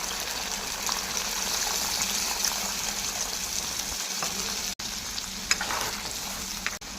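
Water poured into hot oil in a cooking pan for an old family Bengali dish, a loud continuous sizzle and hiss with a brief dip partway through, no talking.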